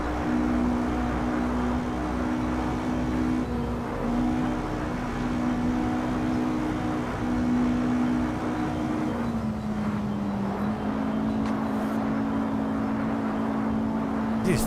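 Car engine in a racing simulator game droning steadily at moderate volume, a sustained low engine tone holding pitch and dipping briefly near the end, heard alone without talk.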